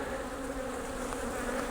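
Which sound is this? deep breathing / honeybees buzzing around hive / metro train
honeybees buzzing around hive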